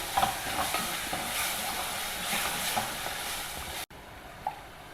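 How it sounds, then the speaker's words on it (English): Ground chutney sautéing in a kadai over a reduced flame: a steady broad sizzle with scattered stirring scrapes that cuts off sharply near the end, leaving a quieter hiss with one soft clink. "just pour in this ground chutney into this kadai. Reduce the flame and saute it for a couple of minutes"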